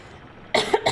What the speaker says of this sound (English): Goodness, I have a cough all of a sudden.